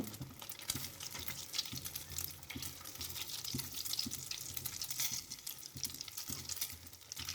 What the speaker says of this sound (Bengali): এটাও আমি ব্রাউন কালার করে ভেজে নেব